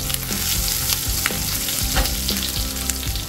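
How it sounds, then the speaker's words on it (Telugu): Curry leaves drop into hot tempering oil and sizzle and crackle loudly and steadily at close range, with no talking. "మనం కొద్దిగా కరివేపాకు వేసుకుందాం."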